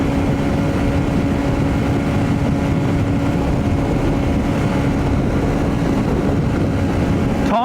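A Honda CB125F motorcycle fitted with a Yuminashi 120cc fuel injector, heard on a ride: a loud, continuous engine drone with rushing wind noise, holding steady throughout with no voices.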